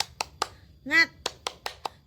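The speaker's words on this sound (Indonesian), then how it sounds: "mari kita tepuk tangan bersama ya anak-anak" A class of children claps together in a steady rhythm, about eight sharp, close claps in two seconds, with a teacher's voice calling out briefly in the middle.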